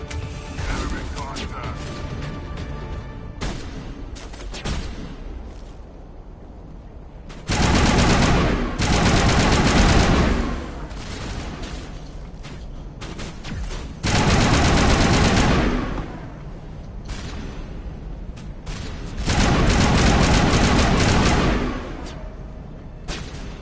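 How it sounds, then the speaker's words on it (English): Bursts of assault rifle fire in the video game Mass Effect Legendary Edition, three loud sustained volleys of a few seconds each, separated by quieter stretches of softer shots and game ambience. "We're going to go for a assault rifle for a bit."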